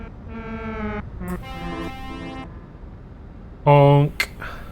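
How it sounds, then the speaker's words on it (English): A truck horn blares in Euro Truck Simulator 2 multiplayer, with a few tonal honks of different pitches followed by a louder, brassy blast near the end, all sounding without any talk over them. "Honk."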